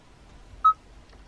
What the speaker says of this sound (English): you can just dial your number that you want to call, hit the call button and make the phone call